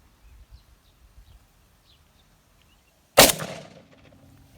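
A single loud, close gunshot from an AK-47 Kalashnikov rifle firing improvised shotgun pellet rounds, a sharp blast with a ringing echo tail, after a few seconds of quiet outdoor ambience with faint birds.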